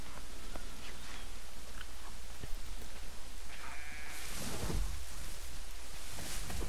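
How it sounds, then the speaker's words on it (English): Faint sheep or lamb bleats from the game Assassin's Creed 3 rise a few times over a constant background hiss, distant and soft, with no talking. "And a lamb. Or a sheep."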